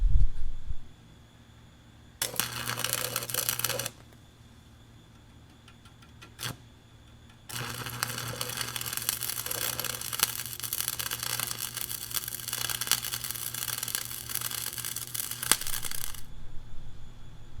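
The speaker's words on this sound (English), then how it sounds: "Now we're ready to weld it up." A crack in beveled steel is arc welded in two bursts: a short crackling spell, then a long steady sizzling buzz that cuts off sharply, with quiet gaps between.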